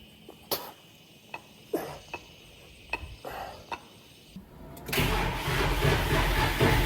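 Several sharp clicks and clanks against a quiet background with crickets, then a John Deere tractor engine cranks and roars to life, settling into a loud steady run.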